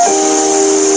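A voice imitates a hissing sound, holding a single sustained, loud, close "s" for about a second, alone and without other talk.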